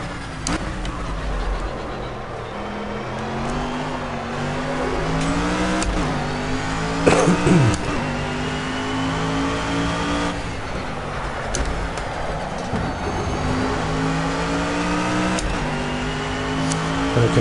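A race car in the racing game Project CARS drives on a track, its engine note steady and droning, rising and falling in pitch through gear changes and corners over a long continuous run, with no talk.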